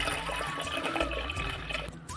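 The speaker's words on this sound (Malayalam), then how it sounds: "അതിലേക്ക് ഒരല്പം വെള്ളം കൂടെ ഒഴിച്ചു കൊടുക്കാം" Water poured into a pressure cooker holding chickpeas, a short close splashing fill for about two seconds with no talk.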